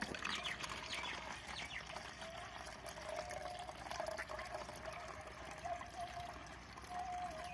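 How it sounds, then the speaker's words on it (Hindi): Water poured into a seed treatment mix for maize seed, a soft continuous trickling and splashing pour heard fairly faint and close, steady throughout with slight swells. "इसमें हम 500 ml जो है वो पानी डालेंगे"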